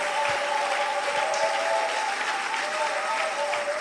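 A church congregation applauding the Lord, steady dense clapping from a crowd filling the room for several seconds, with a sustained tone ringing underneath.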